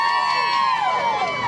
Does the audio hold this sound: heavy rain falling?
no